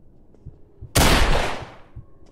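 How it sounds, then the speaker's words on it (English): A single loud gunshot in the Roblox horror game Apeirophobia, a sudden sharp blast with a long, decaying echoing tail over faint background thuds. "Did you hear the gunshot?"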